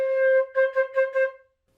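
A flute plays a short run of four quick, evenly spaced groups of notes in a sixteenth-note rhythm, clear and close with no talking, then falls silent.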